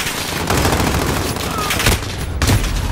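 Dense game gunfire from Call of Duty: Modern Warfare multiplayer, a loud continuous fusillade of automatic weapons with sharper bursts near one, two and a half seconds, alone without talk.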